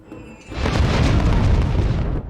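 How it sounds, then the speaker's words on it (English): An airstrike in the strategy game Humankind lands with a deep, rumbling boom. A faint tone precedes it, then the blast swells and holds for about two seconds before cutting off. "So let's use an airstrike like this, for science."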